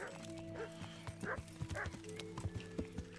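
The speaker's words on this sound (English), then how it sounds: "I can hear him barking, but where is he?" Pebbles the dog barks several times in the medieval game Kingdom Come: Deliverance, the sharp barks cutting over clopping horse hooves and a steady musical background.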